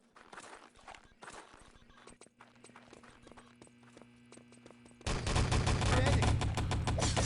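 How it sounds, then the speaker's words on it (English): Gunfire from the video game Enemy Territory during a 3on3 LAN tournament grand final: scattered clicks and light shots at first, then a loud, dense, sustained burst of rapid fire takes over for the last two seconds. "Nice shooting here again from Outlaw"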